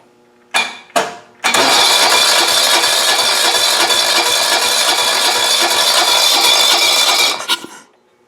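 A John Deere Hydro 165 lawn tractor engine cranks in two short bursts, then fires and runs loudly and steadily for about six seconds before shutting off, with no talk.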